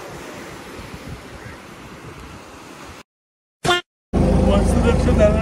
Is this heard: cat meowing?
no